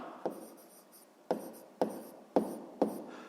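A pen writes on paper during a sixth-grade maths exercise, faint scratching strokes punctuated by about five sharp taps as the pen touches down.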